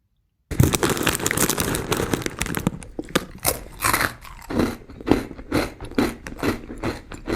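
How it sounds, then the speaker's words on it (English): A chip bag crinkles loudly as it is torn open, followed by a run of sharp, close crunches of chips being bitten and chewed, irregular bursts separated by short pauses. "the crinkling sound of the bag and the opening and the crunching that follows"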